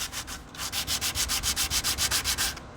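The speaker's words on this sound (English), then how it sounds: "this is like a 30-40 grit sandpaper, really as coarse as you can get, and we're going to rub in this direction first" Coarse 30-40 grit sandpaper rubbed back and forth across a flat knife handle scale, about a dozen even, rhythmic raspy strokes, close and loud, with no talking.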